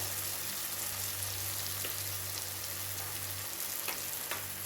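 Continuous bright sizzling of spices, including chili powder, frying in hot oil, steady and close, with a low hum beneath and occasional faint stirring taps.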